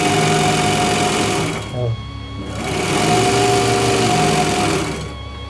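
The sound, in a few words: Pegasus overlock sewing machine running after assembly on its table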